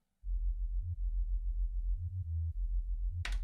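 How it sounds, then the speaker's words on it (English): A deep, pure sine wave sub-bass tone plays a steady rhythmic pattern of low notes, loud and alone, with a brief bright noise burst near the end. "Just a basic sine wave subwoofer, essentially."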